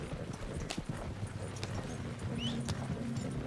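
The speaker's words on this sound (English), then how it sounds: "Yo, get off the train track, Horsey." A horse's hooves clip-clop at a steady walking rhythm in the Red Dead Redemption 2 video game. The hoofbeats sound fairly close over a constant outdoor background hum.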